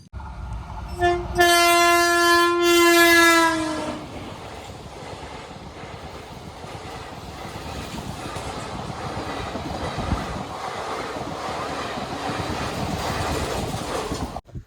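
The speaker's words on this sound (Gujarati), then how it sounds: "वो बोल रहे हैं ट्रेन आने वाली है" A train sounds a loud, sustained horn as it approaches a railway level crossing, then rumbles past steadily with a continuous rolling clatter that holds for the rest of the stretch.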